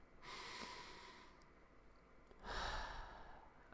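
Two slow, deep breaths drawn close to the microphone, each a soft airy rush lasting about a second, separated by a brief quiet pause, with no speech.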